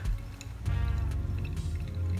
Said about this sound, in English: Now this should draw down until it reaches the bed of coffee